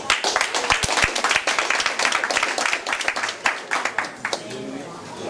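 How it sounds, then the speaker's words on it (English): Applause rings out for a committee member at a community association meeting, brisk hand clapping mixed with voices that thins out and fades near the end. "let's give a round of applause to Mr. Elson Nash."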